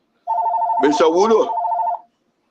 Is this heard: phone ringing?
yes